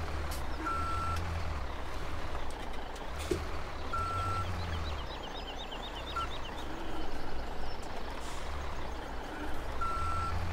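A truck backing up in Farming Simulator 2017 on the Altkirch map: a steady reversing beeper sounds at regular intervals over a constant low diesel engine rumble, with no talking.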